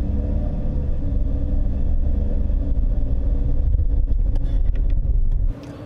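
Toyota Hiace wagon with a 2.7L engine and 6-speed torque-converter automatic, a steady loud cabin rumble of engine and road noise as it pulls through smooth gear changes, easing off abruptly near the end.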